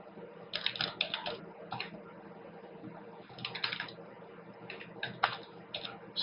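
Irregular bursts of quick clicks as code is typed on a computer keyboard while creating a WordPress link, soft and close, with short pauses between runs of keystrokes.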